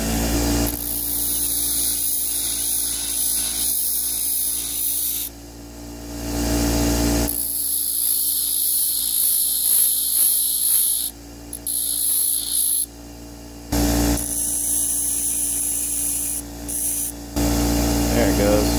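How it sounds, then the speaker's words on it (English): A small chisel having its sides, top and bottom ground down on a grinder, giving a loud steady grinding hiss in several long passes separated by brief pauses, with a constant hum underneath. "I'm actually going to take and grind the sides, the top and the bottom off a little bit"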